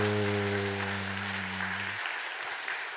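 A church congregation at a Sunday service breaks into applause, dense steady clapping from many people that starts under a fading low sustained tone and carries on alone.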